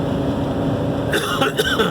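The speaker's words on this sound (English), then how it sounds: "Sorry for the cough." A couple of short, harsh coughs break out near the end, after a stretch of steady low background rumble.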